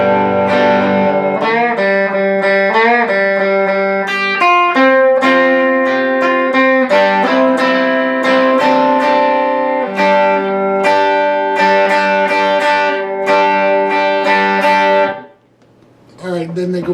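Electric guitar plays the bridge lead lick from a song: a continuous run of bright, distorted, sustained notes with steady rhythm for about fifteen seconds, then cutting off abruptly into near silence.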